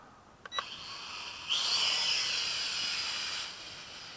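A JXD 509w Pioneer UFO quadcopter drone gives a couple of short beeps, then a high, hissing whir rises for about two seconds before fading back, heard close by with no talking.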